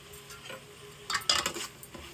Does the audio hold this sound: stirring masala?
yes